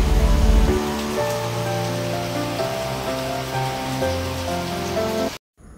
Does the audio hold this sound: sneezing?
no